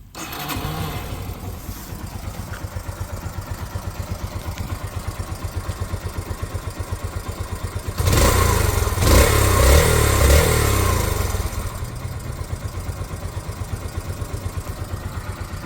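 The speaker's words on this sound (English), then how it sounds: "let's now check the sound of the bike, which is pretty cool for a one cylinder bike" A Yamaha YBR125 single-cylinder motorcycle idles with a steady, even putter, is revved louder for a few seconds, and then settles back to a rhythmic idle.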